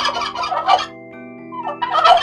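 A turkey gobbles in two rapid rattling bursts close by, separated by a short pause, with a soft sustained musical tone underneath.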